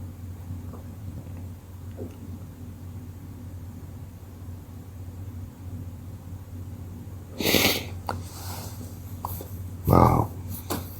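Two short sneeze-like bursts, a sharp one partway through and another near the end, over a quiet indoor hum with faint soft movements before them.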